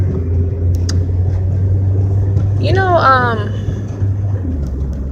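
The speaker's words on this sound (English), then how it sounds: "I really hope my car is not too loud." Steady low engine and road rumble inside a moving car fills the whole stretch, close and constant, with someone talking over it.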